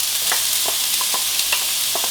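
Hawaiian fried rice sizzles steadily in a frying pan, a continuous bright hiss broken by small crackles and occasional scraping stirs.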